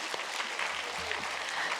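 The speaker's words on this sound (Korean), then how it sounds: "박수하겠습니다." A church congregation claps during a Korean sermon, a soft, even patter of many hands that sounds somewhat distant and stays steady for a couple of seconds.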